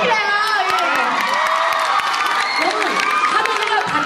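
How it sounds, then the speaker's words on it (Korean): A fan-event crowd cheers, whoops and shouts loudly and without a break, with applause mixed in and high excited voices, including children's, over dense steady noise. "박수 한번 부탁드려요."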